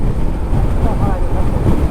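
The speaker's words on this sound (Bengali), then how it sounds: "আবার বাতাস শুরু হয়েছে" Strong wind buffeting the microphone on a Honda Livo 110 motorcycle crossing the Jamuna Bridge, a loud, continuous low rumble throughout.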